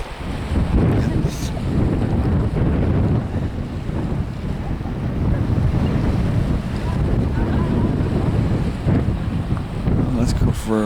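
Wind buffets the microphone steadily beside waves washing against a lake shore at Split Rock Lighthouse State Park, a continuous loud rush with no talk.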